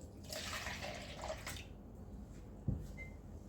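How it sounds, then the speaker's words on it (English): Liquid poured from one container into another to even out the volumes, a steady splashing trickle that runs for about a second and a half, then trails off into quieter drips with a brief knock near the end. "I want to pour some of that out, just that we have equal quantities"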